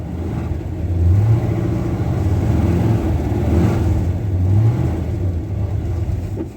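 An old car engine fed by three carburetors runs and revs, a loud, steady low rumble with two swells in pitch as the throttle opens, close by and without voices.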